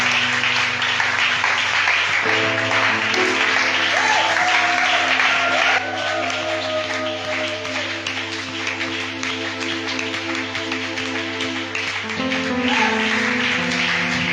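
A church congregation stands and applauds, with sustained clapping from a large crowd over music that continues throughout.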